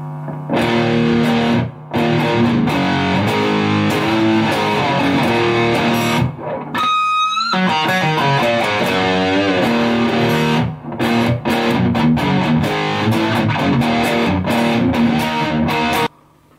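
An electric guitar played on the bridge pickup through a Boss Metal Zone distortion pedal, loud, saturated chugging riffs and sustained distorted chords, with a short squealing lead break midway and a few brief gaps between phrases.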